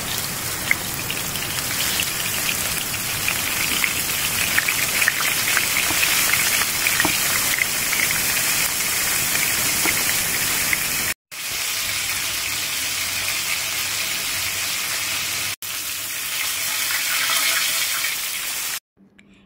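Floured loitta (Bombay duck) fish pieces frying in hot oil, a loud, steady, close crackle and sizzle that runs almost continuously, briefly cut twice.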